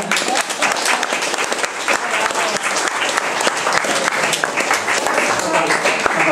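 An audience at a literary reading event claps in full, continuous applause for an author who read aloud nightly on tour, the dense clapping holding steady while voices can be heard beneath it.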